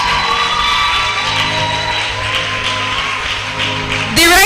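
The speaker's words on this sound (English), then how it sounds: "Please, a resounding applause as she finds her way on stage." Audience applause at the 2024 JCI Nigeria TOYP/IYD event as the moderator walks on stage, a steady wash of clapping from a large crowd that ends abruptly near the close.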